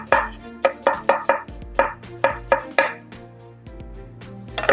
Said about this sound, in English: So peel our onions, slice these fairly thinly, but not as thin as we could